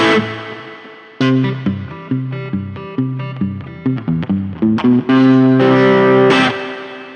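An electric guitar through the spring reverb setting of a NUX Mighty Lite BT amp plays a series of plucked notes and chords, each ringing out with a splashy, drawn-out reverb tail; no talking.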